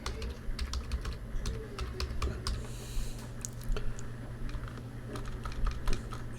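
Rapid, irregular keystrokes on a computer keyboard while entering Python code for a Battleship game, close and steady throughout with a faint background hum and no voices.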